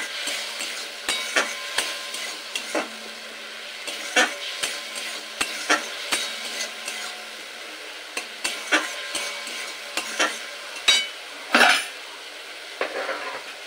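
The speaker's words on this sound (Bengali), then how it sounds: "একটু জল দিয়ে মশলাটা আবারও খুব ভালোভাবে কষিয়ে নেব" Spice paste of ground ginger and chilli, loosened with a little water, is stirred in a pan: a steady soft sizzle with repeated scraping strokes of a spatula against metal, close and moderately loud, no voices.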